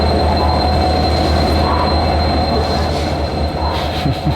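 A sleeper-class train in India rumbles in loud and close, with a steady high metallic squeal from its wheels over a deep, continuous roar.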